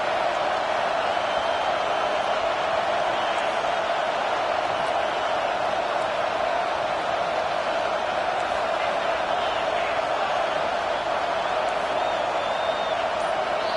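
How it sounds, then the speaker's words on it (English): A stadium crowd at a football game against Nebraska roars in a sustained, dense wall of cheering and noise, steady and loud for the whole stretch with scattered shouts on top. "This crowd bringing the energy and noise early."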